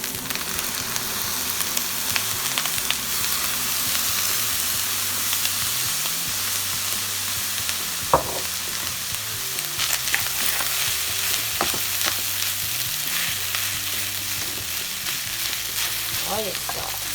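Rice with broccoli and shrimp stir-frying in a pan, a steady close sizzle and crackle with repeated scraping, stirring strokes and occasional clinks of a utensil against the pan throughout.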